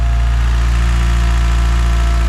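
A built Mitsubishi Evo 8 idles on its first start, a loud, steady, close-up drone with a deep hum that holds unchanged throughout, no voices over it.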